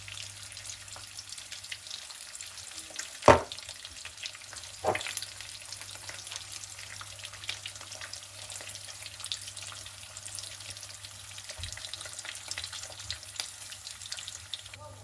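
Eggs frying in a pan alongside already-browned bacon, a steady close sizzle throughout with two sharp clatters early on and a low constant hum underneath, no voices.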